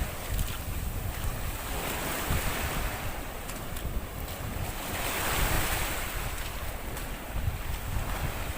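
Choppy sea waves wash steadily onto a white-sand island beach with very clear water, a continuous loud surf roar buffeted by strong wind noise on the microphone, with no voices.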